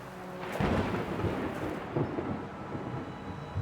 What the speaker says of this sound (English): Ooh, there's a lightning storm.